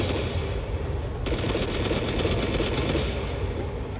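Rapid automatic gunfire in the ARMA 3 video game at night, a dense, loud, continuous rattle of shots that fills the whole stretch with no voices over it.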